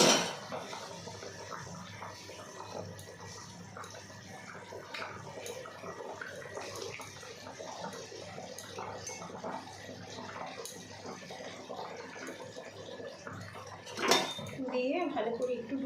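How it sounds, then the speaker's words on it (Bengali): Fish pieces go one by one into simmering curry amid clattering pots and utensils, with a steady bubbling, cooking background and a sharper clank near the end. "এবার মাছগুলো দিয়ে দেবো এক এক করে ঝোলের মধ্যে"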